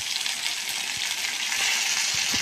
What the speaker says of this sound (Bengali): রসুনের পেস্ট, আদার পেস্ট দেওয়ার পরে অল্প আমি নাড়াচাড়া করতে থাকলাম।